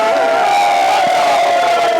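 Football fans in a stadium crowd at a Mamelodi Sundowns match cheer and roar in a dense, continuous wall of sound, with a steady sustained tone running through the din.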